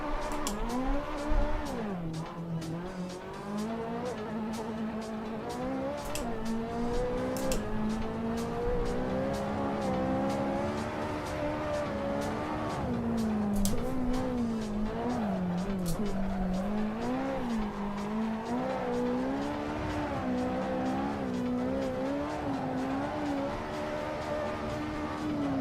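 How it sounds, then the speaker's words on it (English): A race car in Assetto Corsa Evo revs and slides through long drifts, its engine note rising and falling under sustained, wavering tire squeal, loud and continuous throughout. "let's just try driving around doing big drifts"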